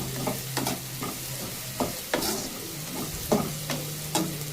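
Onions sauté in oil with fennel and ginger-garlic paste for chicken thokku, giving a close, steady sizzle broken by regular scraping strokes of a spoon stirring the pan.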